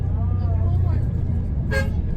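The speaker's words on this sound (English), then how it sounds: "Blow your horn, pop pop." A short car horn blast sounds around the middle of a drive along a Jamaican road bypassing Montego Bay, over steady vehicle engine and road noise with people talking nearby.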